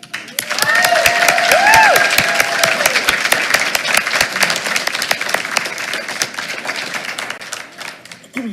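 A school board meeting audience gives a teacher a round of applause, steady dense clapping that swells near the start and gradually thins toward the end, with a few whoops and cheers mixed in.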